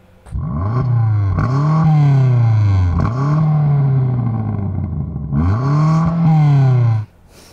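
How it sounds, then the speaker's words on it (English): A stationary BMW M5 CS engine is revved repeatedly to its red line, with three loud rising-and-falling rev cycles, each climbing sharply and dropping back before cutting off at the end. "have a listen to this BMW M5 CS being revved while stationary all the way to its red line"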